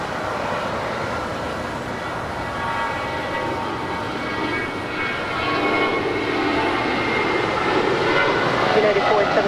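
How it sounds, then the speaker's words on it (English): An airliner at LAX rolls down runway 25 right for takeoff, its engine roar a steady broadband rumble that swells louder in the last few seconds, with radio chatter faintly under it. "Martha Valares, flight 923. She is now rolling down 25 right"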